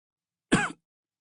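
A man gives one short, sharp cough, close and clear, in a single burst against silence.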